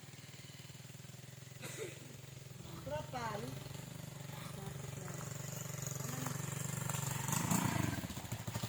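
A motorcycle engine runs steadily on a corn farm where it is used to haul sacks of harvest. It drones throughout at a fairly constant, moderate level, with people talking over it.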